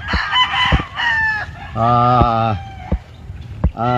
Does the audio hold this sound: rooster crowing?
yes